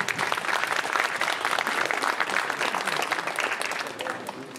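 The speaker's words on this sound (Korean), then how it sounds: "이 두 사람의 혼인 사역에 다시 한번 큰 박수 보내주시기 바랍니다." Guests at a traditional Korean wedding ceremony for an international couple break into loud, sustained applause, a dense clapping crowd that fades slightly toward the end.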